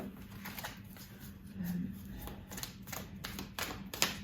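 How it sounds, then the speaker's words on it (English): Soft, close tarot card shuffling: quiet papery riffles and flicks in short bursts, with a few sharper taps. "give me a moment to shuffle, please"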